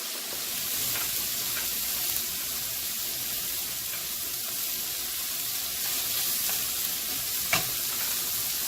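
Hamburger stuffing cooks in a pan with a steady, close sizzle throughout, broken by a few faint clicks and one sharper tap near the end.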